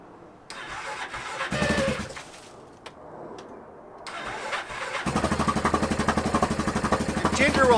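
A fuel-injected Yamaha 708 ATV engine, just overhauled after running out of oil, is cranked twice on a freezing morning, then catches and settles into a steady, even idle close by.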